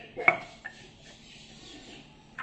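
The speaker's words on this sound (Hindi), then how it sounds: "तो अब हम इसमें ये ब्लेड वापस फिट करते हैं।" A blade is fitted back into a Glen electric mini chopper, making one sharp plastic click followed by a softer knock and faint handling rustle, close and brief.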